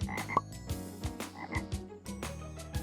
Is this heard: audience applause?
no